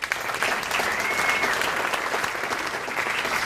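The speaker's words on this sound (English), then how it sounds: "let me hear you clap if you have kids" Audience applause at a comedy roast, a steady wash of clapping from a crowd that holds at full level from start to finish with no gaps, loud and dense throughout.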